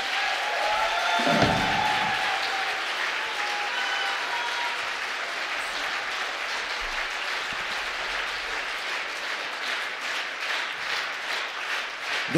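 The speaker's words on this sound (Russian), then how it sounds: "пока мы с вами хлопали" An audience applauds after a Latin music song at a philharmonic concert hall in Murmansk, sustained dense clapping from a large crowd that stays steady and full for the whole stretch.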